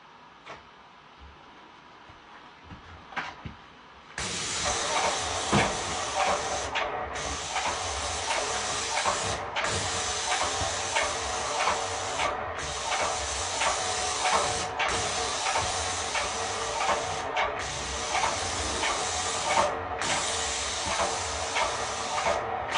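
Graco Powershot paint sprayer spraying satinwood paint onto a wardrobe, a loud steady hissing spray in long bursts separated by brief pauses, after a few quieter clicks and handling sounds at the start.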